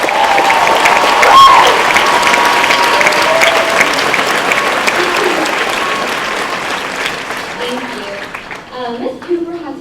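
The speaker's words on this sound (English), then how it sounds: "Can I please get a round of applause for Miss Donna Cooper?" A large graduation crowd at Camas High School applauds a staff member, dense sustained clapping and cheering filling the space for several seconds before fading as voices come through near the end.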